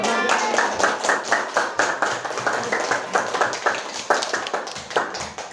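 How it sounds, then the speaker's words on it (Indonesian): A classroom audience of students applauds, with brisk, steady hand clapping that runs unbroken for several seconds at close range. "Kasih aplaus dulu"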